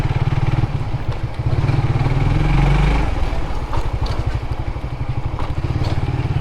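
Suzuki GSX-R motorcycle engine running after servicing, a loud steady throb that swells with throttle around the middle, then settles into a rapid pulsing idle close by.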